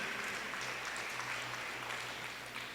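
A church congregation applauds during a sermon, a soft, even wash of clapping heard at a distance throughout.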